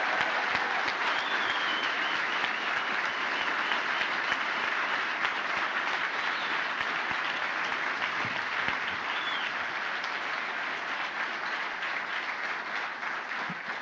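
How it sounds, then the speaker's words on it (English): A debate audience gives sustained applause for the panelists at the close of a discussion on systemic racism, steady dense clapping filling the room for about fourteen seconds at an even level. "So how about a special round of applause for Dr."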